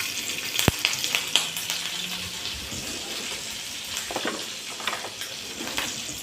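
Curry leaves, cumin seeds and chili spluttering in hot oil for a potato fasting dish, with a few sharp pops early on over a steady close sizzle and some light clinks.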